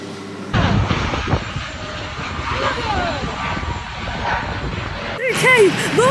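A small airplane's engine at an airport, a steady droning roar heard close, with people talking over it and a short shift in sound near the end.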